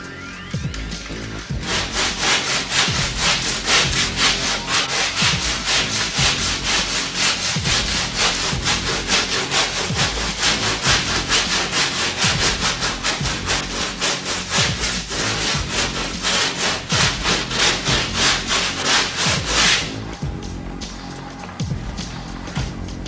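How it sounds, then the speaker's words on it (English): A hand sander works over auto body filler in steady, continuous back-and-forth strokes. The rough rasping runs loud and close for about eighteen seconds without a break. "as you're using this sander, always use it, any hand sander like this, use it vertical"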